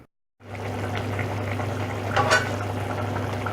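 Aloo matar, a potato and pea curry, simmering in water in a pan, giving a steady low bubbling hiss with a brief louder sizzle burst partway through.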